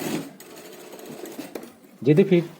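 A sewing machine double-stitches a fitted churidar, running in short close bursts that end in a louder rattling run, with a voice speaking over parts of it.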